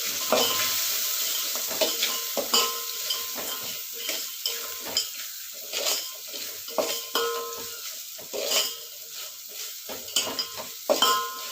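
Kichidi being stirred in a pan after salt is added: repeated scraping strokes of a spoon against the pan come in irregular bursts over a soft continuous sizzle, close and clear, with no speech.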